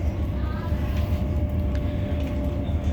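Inside a moving train carriage nearing a tunnel, a steady low rumble and wheel noise drone continuously with a faint tonal hum, fairly loud and unbroken.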